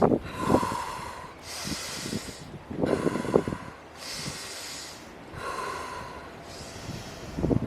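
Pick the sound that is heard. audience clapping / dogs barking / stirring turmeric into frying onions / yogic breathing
yogic breathing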